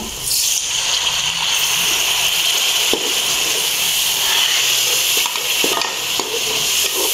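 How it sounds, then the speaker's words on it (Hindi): Water is poured into a pot of frying masala with chilies for tindy gosht, setting off a loud, steady sizzle and bubbling hiss that runs throughout with occasional stirring clicks and no talk. "तो थोड़ा सा मैं डालती हूँ पानी"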